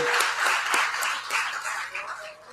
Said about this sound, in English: can you please join me in giving a very warm round of applause